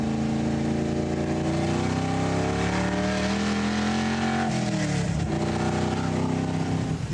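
A Ford Mustang on 15-inch tires with a 750 carburetor, set up as a medium handling car, drives a twisty road; its engine drones steadily and loudly, pitch rising and dipping as it lifts off and reaccelerates.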